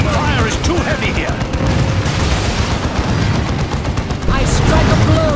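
A dense, loud battle from the Dawn of War II strategy game keeps up a constant roar of gunfire and explosions, with voices shouting over the din.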